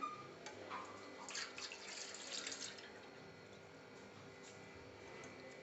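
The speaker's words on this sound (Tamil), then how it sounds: "இப்போது ஒரு வெசல் எடுத்துகிட்டு அதில் நாம் எடுத்து வச்சுருக்கிற மோரை ஊற்றிக்கலாம்." Buttermilk poured into a vessel makes a short close liquid stream and splash in the first few seconds, then fades to a faint quiet background.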